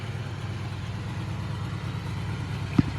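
A classic car's engine idles steadily during a cold start with the choke engaged, a low rumbling drone throughout with one brief sharp knock near the end.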